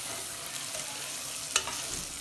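Turmeric fries in a pan with oil for chicken biryani, giving a steady close sizzle over about two seconds, with one sharp scrape of a spoon near the middle.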